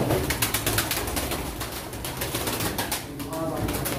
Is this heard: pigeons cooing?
yes